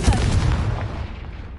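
A Confringo blast spell exploding in a Harry Potter video game: a heavy, rumbling boom that hits at once and then rolls away into a long fading tail.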